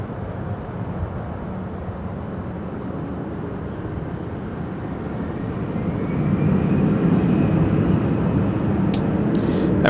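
An airliner taking off at LAX gives a steady, distant roar that slowly builds and grows louder toward the end. Faint radio chatter blips come in near the close.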